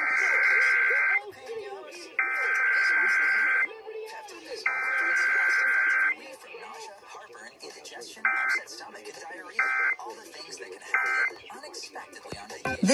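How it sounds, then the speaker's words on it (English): Emergency Alert System test on a broadcast radio station: loud, harsh electronic data bursts and steady alert tones in repeated blocks, heard alone in a cycling pattern. "The following is a test of the emergency alert system."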